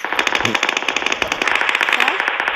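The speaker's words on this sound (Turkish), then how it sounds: "Bak silah sesleri geliyor." Rapid automatic gunfire in the video game PUBG, a fast rattling string of close, loud shots that continues almost without pause, with no speech over it.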